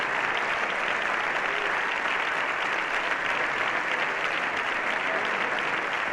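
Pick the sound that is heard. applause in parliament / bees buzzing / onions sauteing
applause in parliament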